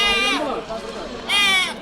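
Goats at a busy Saturday goat market in Prathipadu give two loud, close bleats, one at the start and another about a second later, over a noisy market background.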